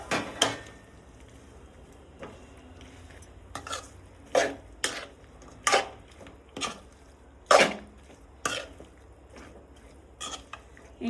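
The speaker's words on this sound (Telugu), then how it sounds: "ఈ గ్రేవీ అంతా దగ్గర అయ్యే వరకు కలుపుకుందాము." A spoon stirs chicken gravy with yogurt and fried chicken pieces in a pan, making a series of sharp metallic scrapes and clinks against the pan at an uneven rhythm over a quiet background.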